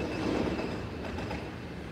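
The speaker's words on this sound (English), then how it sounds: "the 1222 Nottingham Express Transit Service to Toton Lane" A Nottingham Express Transit tram rumbles along the rails at a stop, a steady broadband roll, fairly close and unbroken.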